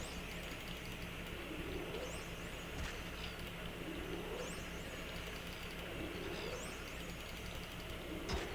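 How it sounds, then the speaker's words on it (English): In the Morrowind video game, angry creature calls repeat in a regular cycle roughly every second and a half, each a rising cry. They sit faint and distant over a constant ambient rumble. "I have a bunch of birds pissed off at me."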